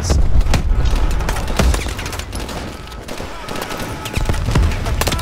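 Gunfire in the Call of Duty: Advanced Warfare campaign, a dense, continuous barrage of rapid shots and booms layered over battle noise, loud and sustained throughout.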